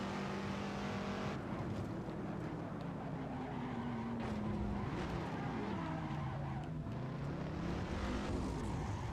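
A 2005 first-generation Ford GT race car in Assetto Corsa runs into the dirt and loses traction, its engine droning and wavering in pitch with skidding hiss and rough surface noise, loud and continuous.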